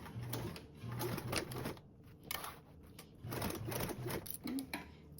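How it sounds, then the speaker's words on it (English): A sewing machine stitches a duffle bag at a quarter-inch seam allowance, running in short bursts with brief pauses, soft and close. "sewing with a 1/4 seam allowance"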